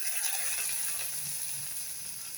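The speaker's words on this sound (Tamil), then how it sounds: "புளி, வத்தல், இஞ்சி, தக்காளி போட்டு கொஞ்சம் வதக்கிடுவோம்" Tamarind, dried chilli, ginger and tomato sauté in hot oil in a pan, giving a steady, soft, close sizzling hiss.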